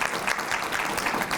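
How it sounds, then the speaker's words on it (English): An alumni breakfast audience gives steady, close applause for award inductees, with many hands clapping continuously through the brief moment. "So if you'll give them a round of applause as well."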